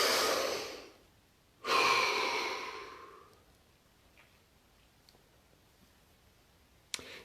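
A person takes two deep breaths close up, a long airy exhale followed by a second full breath that fades into near silence, with a sharp click near the end.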